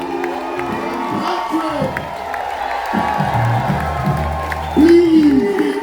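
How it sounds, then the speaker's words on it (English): A concert crowd cheers and applauds loudly, with whoops and shouts rising and falling over steady clapping, while a voice calls out over it. "Can we have a round of applause for"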